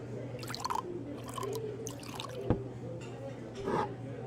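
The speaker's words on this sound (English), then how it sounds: "Can I pour you a glass?" Liquid pouring and dripping into a glass in the game Life is Strange: True Colors, with scattered splashes and trickles over a steady background hum, fairly soft and close.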